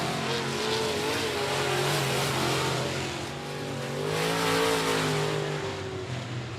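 Race cars roar steadily around the I-37 Speedway track. The engine drone is loud and continuous, rising and falling as the cars pass, with a few overlapping engine tones and no talk.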